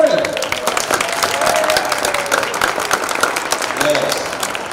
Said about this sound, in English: give a nice, warm, great applause for ESG